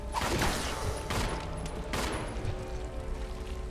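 Gunfire in the video game Resident Evil Zero HD Remaster, heard as a dense, sustained barrage of loud shots with a few sharper bursts standing out, with no talking over it.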